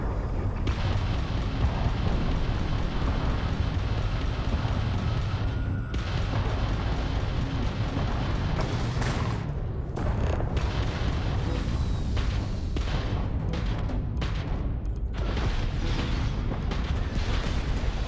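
Starfield combat fills the scene with dense, continuous gunfire and booming explosions, heavy rumbling blasts layered with rapid sharp pops that grow more clipped and staccato toward the end.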